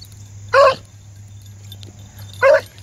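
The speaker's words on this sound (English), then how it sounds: "You hear him whining?" Outdoors, a dog whines in two short, high, nasal bursts about two seconds apart, close by, over a faint steady background hum.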